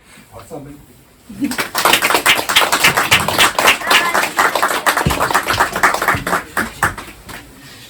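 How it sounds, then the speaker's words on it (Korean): Church congregation claps at a pastor's installation service, starting after a brief quiet spoken moment and swelling into loud, close, irregular rapid clapping that continues to the end. "박수 한번"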